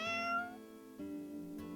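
A video game character gives two short, high meows at a lucky cat statue, the first one longer and drawn out and the second one brief, heard clearly with no talking.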